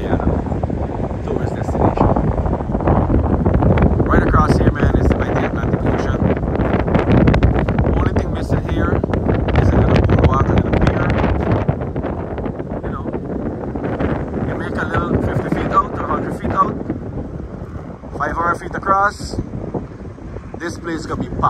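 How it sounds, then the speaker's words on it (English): Strong wind buffets the microphone outdoors at a scenic site in Guyana, a loud, continuous rumbling roar while a person talks throughout. "It's very windy today"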